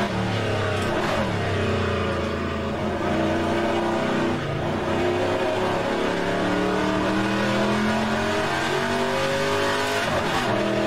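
An old muscle car engine in rFactor 2 with a 4-speed gearbox drones loudly and steadily, its pitch rising and falling through gear changes while the car holds speed through corners.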